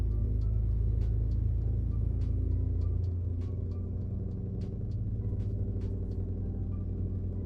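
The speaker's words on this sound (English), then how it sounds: "How is their truck so much louder than mine is?" A loud truck engine idling nearby, a deep steady rumble with a low throb that shifts slightly partway through, with faint ticking clicks above.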